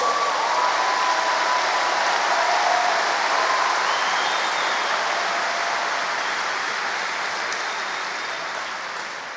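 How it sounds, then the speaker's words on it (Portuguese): A conference audience at the Destino church event applauds God in steady, dense, crowd-wide clapping that holds for several seconds, then gradually thins and fades toward the end. "Vamos Brasil, se você for aplaudir a Deus"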